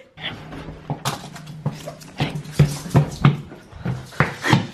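A pet dog whimpers and whines in a series of short, close, nasal cries and yips, rising and falling in uneven bursts indoors.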